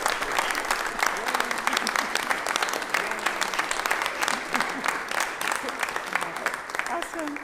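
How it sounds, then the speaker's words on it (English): A Methodist church congregation gives sustained, dense clapping during Sunday worship to welcome new members. The applause is steady and even from start to finish. "Let's give them a round of applause."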